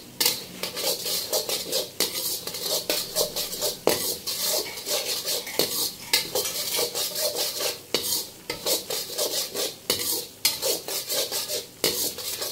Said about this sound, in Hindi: इसी तरह हम मजीद इसको 5 मिनट के लिए लाइट ब्राउन करेंगे, डार्क ब्राउन नहीं करेंगे।